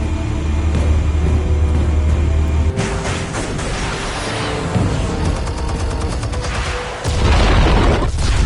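Explosives detonating in Batman: The Telltale Series, with a deep rumbling boom rolling into a long crackling, debris-filled roar, then a heavy low blast near the end; loud and close.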